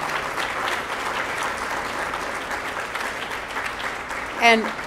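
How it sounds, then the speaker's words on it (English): Steady audience applause fills a Global Alliance for Clean Cookstoves third anniversary event, with a brief voice rising near the end. "So give yourselves a big round of applause."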